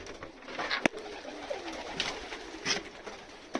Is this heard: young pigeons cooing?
yes